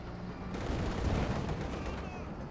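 Distant tank and artillery shelling in the Company of Heroes 2 strategy game, with a T-34 bombarding a Sturmpanzer, heard as a dense, rumbling wash of gunfire and booms under an ongoing battle.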